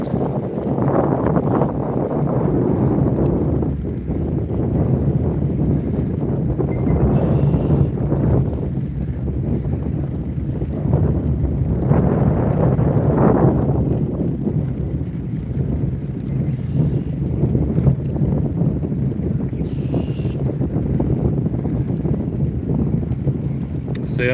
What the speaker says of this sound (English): And here's the waves, guys. There's some of them.